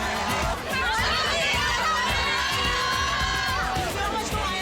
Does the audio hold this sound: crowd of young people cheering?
yes